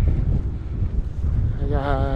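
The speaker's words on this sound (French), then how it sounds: "Ouh là, c'est un petit vent qui picote là." Mountain wind at a lake in the Vallée des Merveilles buffets the microphone in steady rumbling gusts throughout, with a brief tonal whine near the end.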